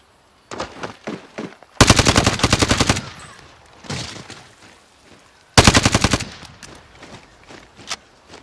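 Automatic gunfire in a battle royale shooter game, two long, loud bursts of rapid shots plus scattered single shots and footsteps between them.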